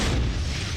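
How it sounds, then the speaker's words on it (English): A C4 charge detonates in a huge outdoor blast, a close, loud, heavy boom with deep rumbling low end that fills the whole short moment with no speech. "That's a good explosion right there."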